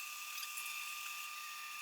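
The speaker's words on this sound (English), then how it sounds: "It is much easier to use the drill press." A drill press bores holes in an aileron counterweight for an RV-14A aircraft build, a steady high-pitched whine that holds an even tone for the whole short stretch, fairly quiet and with no talk.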